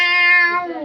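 A talking bird imitates a cat's meow with one drawn-out, close, clear call of under a second that holds steady and then fades slightly at the end.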